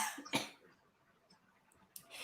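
A few quiet, close coughs and throat-clearing sounds, short bursts separated by near silence.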